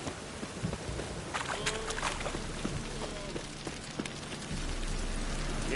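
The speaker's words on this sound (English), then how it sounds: "A storm, damn it." Rain falls steadily during a storm in The Witcher 3, a dense hiss of drops on surfaces with scattered crackles, and the low rumble swells toward the end.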